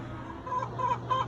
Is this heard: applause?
no